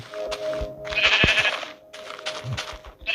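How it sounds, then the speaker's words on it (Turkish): Sheep bleating in the video game Minecraft Alpha in short, bright calls over a steady electronic hum, with a few soft clicks; the bleats rise and fall across a few seconds. "Evet şurada bir koyun var."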